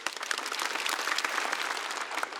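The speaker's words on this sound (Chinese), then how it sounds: "希望大家给他们热烈的掌声。" Studio audience at a stand-up comedy show applauding warmly, a continuous, fairly close wash of clapping that holds steady from start to finish with no talk.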